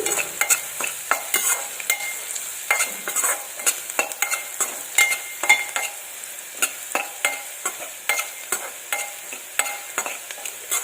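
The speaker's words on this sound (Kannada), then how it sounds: "ಇದೆಲ್ಲ ಚೆನ್ನಾಗಿ ಫ್ರೈ ಆದಮೇಲೆ ವೆಜಿಟೇಬಲ್ಸ್ ಎಲ್ಲ ಚೆನ್ನಾಗಿ ಫ್ರೈ ಆದಮೇಲೆ" Vegetables with turmeric frying and being stirred in a pan for Maggi masala rice, a steady sizzle broken by frequent sharp scraping strokes of a spoon against the pan, close and continuous.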